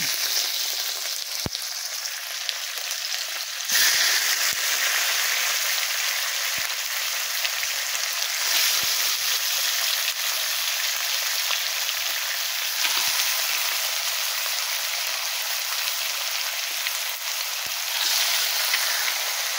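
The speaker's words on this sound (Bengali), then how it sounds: "আমি চিকেনগুলোকে সব দিয়ে দেবো তেলের উপরে।" Marinated chicken fries in hot oil with a dense, continuous sizzle and crackle, loud and close, its hiss shifting slightly as pieces settle, with no talking.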